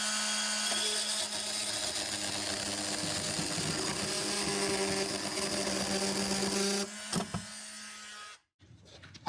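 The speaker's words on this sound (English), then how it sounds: "I have a multi-tool, and what I'm going to do is I'm just going to cut here at the top of the elbow" An oscillating Dremel multi-tool cuts through copper pipe at the top of an elbow with a close, steady buzzing whine. It runs for about seven seconds, then sputters and stops, leaving near silence.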